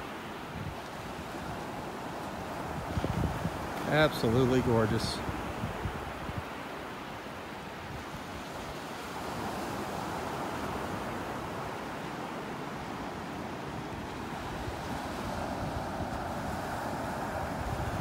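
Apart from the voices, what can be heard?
waves breaking on beach, North Naples Florida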